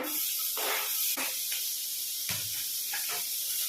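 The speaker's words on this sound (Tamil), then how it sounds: "நான் வெட்டி வச்ச கேரட்டும் கேப்சிகமும் ஆட் பண்ணுறேன்" Chopped carrot and capsicum sizzling in hot butter in a pan, a steady hiss broken by bursts of louder crackling as the vegetables are stirred.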